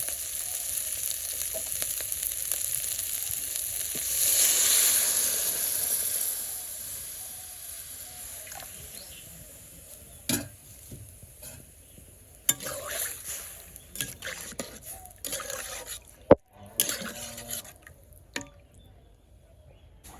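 Water poured into a pan of sautéed potatoes, giving a loud hissing burst early that fades into a quieter simmer with scattered sharp clicks and knocks of utensils, close by, no talk.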